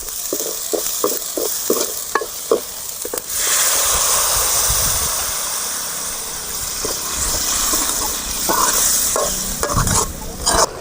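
A few sharp spoon taps against a pan, then a loud continuous sizzle as snake gourd kootu boils and is stirred, with scraping near the end.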